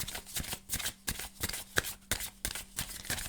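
A deck of cards is shuffled in quick repeated riffles and taps, crisp rhythmic bursts heard close and alone at low volume.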